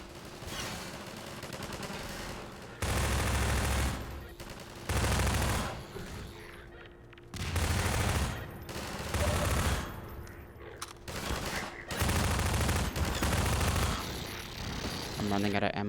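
Bursts of SMG fire from the game Half-Life 2 come in loud, dense rattling volleys that stop and start across the stretch, with a player's voice talking between and under the shots.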